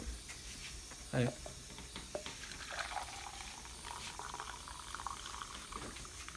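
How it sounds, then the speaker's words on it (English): Freshly brewed coffee being poured into a Starbucks cup in a home kitchen, a quiet continuous liquid trickle and gurgle heard close up, with a short louder clunk early on. "what I'm gonna do is just pour it into my Starbucks cup"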